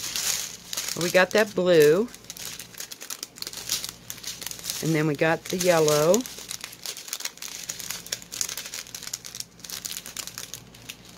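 Plastic packaging crinkles and rustles in short handled bursts while unboxing a new DAC, with a person talking throughout over the crackle.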